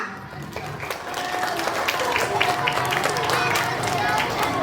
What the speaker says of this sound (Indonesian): tepuk tangan untuk kelas 5A